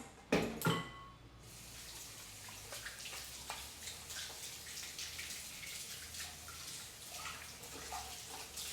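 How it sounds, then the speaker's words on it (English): A kitchen tap runs steadily as hands are washed under the stream, a soft continuous splash that follows a couple of brief clattering knocks at the start. "I'm going to wash my hands."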